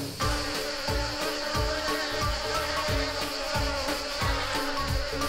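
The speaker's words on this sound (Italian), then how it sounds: "Amiamo le api e le api amano noi." Bees buzz steadily and loudly at an educational farm that keeps hives for honey, a continuous close hum running without pause alongside a rhythmic backing beat.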